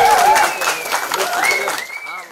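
Audience applause at a BIG FM radio event for a film promotion, steady crowd clapping heard under a talking voice.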